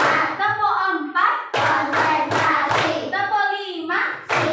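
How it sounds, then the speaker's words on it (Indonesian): Hands clap in quick bursts during a classroom clapping routine, the sharp smacks mixed with a child's and an adult's voices speaking around them. "Tepuk empat."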